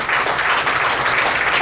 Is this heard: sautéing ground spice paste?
no